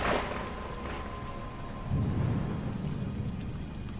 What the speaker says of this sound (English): Thunder kept booming the clouds